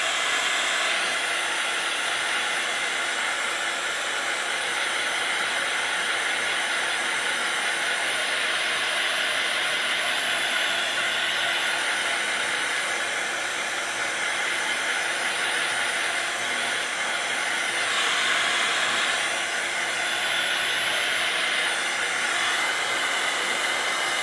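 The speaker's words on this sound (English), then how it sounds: "Let me get my dryer here." Hair dryer blowing on a painting to dry the paint, a continuous loud airy whir with hiss that holds steady for the whole stretch, swelling slightly now and then, with no talking.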